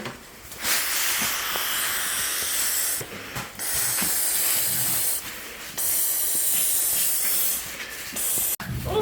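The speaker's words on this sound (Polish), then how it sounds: "Pompujemy." An inflatable pillow being pumped with air on a camping trip, loud rushing hisses in repeated strokes separated by short pauses, close up with no talk.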